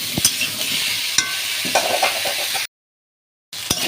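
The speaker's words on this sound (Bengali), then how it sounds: "কচুটা আমার খুব সুন্দর করে ভাজা হয়ে গেছে, একদম লাল লাল করে ভেজে নিয়েছি" Taro (kochu) frying in a pan with turmeric and salt, a steady crackling sizzle punctuated by sharp scraping stirs, briefly cutting to silence before the sizzle resumes.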